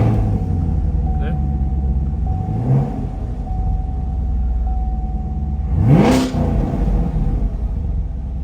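A Chevy Camaro engine runs and revs in two rising bursts over a low idle rumble, loud and close, with a faint steady whine alongside.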